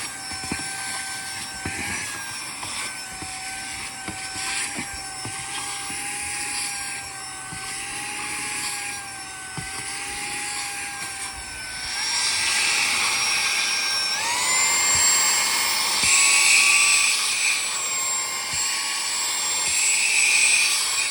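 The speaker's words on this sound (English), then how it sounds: "So I'm gonna use this little portable vacuum to clean it up." A small wireless portable car vacuum cleans a car's floor, a steady high-pitched motor whine with a whooshing airflow that grows louder and rises in pitch partway through, with no other sound.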